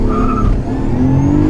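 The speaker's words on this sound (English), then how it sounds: "The clutch is aggressive, so I gotta be careful." Honda CRX with an aggressive clutch pulling away under acceleration, a loud steady engine note that climbs in pitch close by, with no talk over it.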